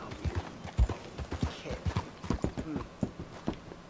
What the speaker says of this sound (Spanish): Hay un caballo allí.